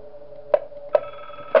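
A phone call rings in the horror video game Five Nights at Wario's 2, three short electronic ring pulses spaced apart over a steady tonal hum, with no talk.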